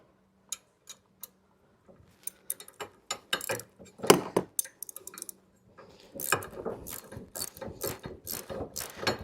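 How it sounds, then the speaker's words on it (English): A 13 millimeter ratchet wrench turns a bolt on a Cybertruck front bumper, giving sparse single clicks that build into quick bursts of ratcheting, close and clear with short pauses between strokes. "One's going to be my ratchet for the top."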